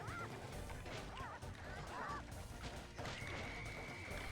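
Roosters in the video game Sly Cooper and the Thievius Raccoonus crow and squawk in short rising calls amid crashing game effects, followed by a steady tone, moderately faint.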